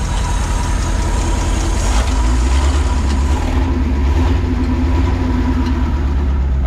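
A 76-year-old Pontiac engine idles steadily and close up, with an even, low rumbling chug running unbroken throughout.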